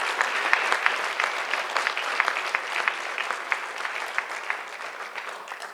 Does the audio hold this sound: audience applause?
yes